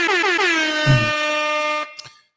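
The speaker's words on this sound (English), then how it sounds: "Let me get another air horn on that." A loud, sustained air horn blast with a harmonic blare, briefly punctuated by a low thud midway, then cutting off abruptly.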